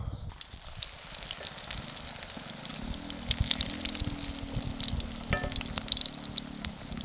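Pastil fried rice sizzles loudly in a pan at a campsite. The frying hiss is steady and close, with scraping stirs and a few clinks from the spatula.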